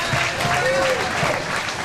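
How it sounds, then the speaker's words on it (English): A bowling-alley crowd applauds and cheers a strike attempt, a short burst of clapping and voices that fills the space, with a commentator talking over it. "He can! He loves it too. Why wouldn't he? The crowd loves it."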